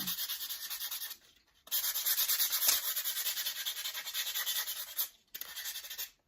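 Sandpaper rubbing over a Dollar Tree wooden heart picture frame in quick, even back-and-forth strokes, close and fairly quiet, with two short pauses between bursts of scratching.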